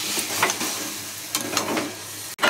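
Eggplant and dried fish curry sizzling in a hot pan as water is poured in, a loud crackling hiss with bursts of spattering, ending with a brief clatter.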